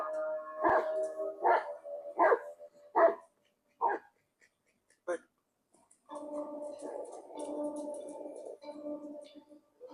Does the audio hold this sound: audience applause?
no